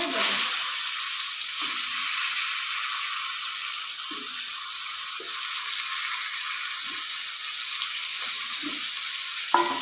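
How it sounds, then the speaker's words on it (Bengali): Papads fry in hot oil with a steady, bright sizzle that runs unbroken, punctuated by a few soft clinks and scrapes of a utensil in the pan. "আর পাপড়গুলো দেখাও, ভাজা হয়ে গেছে"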